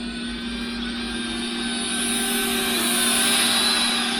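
An MJX V1 mini drone whines steadily nearby, its high-pitched buzzing motor tone holding constant and swelling slightly louder toward the end.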